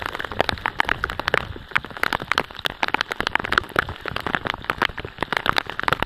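Rain pouring over the sea near mangroves in the Philippines, dense crackling patter of drops hitting the water and nearby surfaces, loud and close, steady throughout with no voices.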